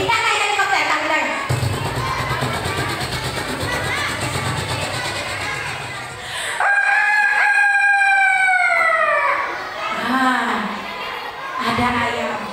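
A rooster crows once in a long, rising-and-falling call amid a chattering crowd and children at an outdoor storytelling event in Aceh Tamiang, with voices continuing around it.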